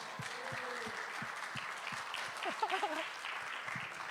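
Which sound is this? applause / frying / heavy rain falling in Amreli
applause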